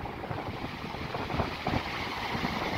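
Choppy sea and surf churning beneath a small fishing boat off Santa Margherita Ligure during a summer storm, a steady broadband wash with wind buffeting the microphone, moderately loud throughout with no talking.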